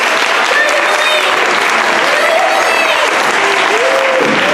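An audience at a Peter Pan stage production claps hands loudly and continuously, a dense, sustained wash of applause filling the theater while voices call out faintly underneath.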